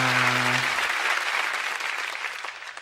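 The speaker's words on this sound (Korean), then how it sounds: "하나님께 영광의 박수 올려드리겠습니다." Applause at a children's department online church worship service, a burst of clapping that follows a fading held tone and slowly thins out toward the end.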